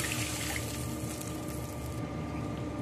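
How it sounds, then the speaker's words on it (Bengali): Water poured steadily into a bowl while making a semolina and potato evening snack, a continuous close splashing, gurgling stream that runs the whole time and eases slightly near the end. "আর হাফ বাটি জল আমি দিয়ে দিলাম।"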